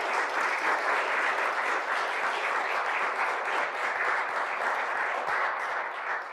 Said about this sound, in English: I'd just like to ask if we could all give a round of applause to Mayor Cavanaugh and Gina.